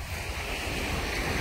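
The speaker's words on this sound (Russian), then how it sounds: "Море немного волнуется." Sea waves wash steadily onto a beach on the Crimean shore, a continuous rushing surf mixed with gusty wind buffeting the microphone and no voices.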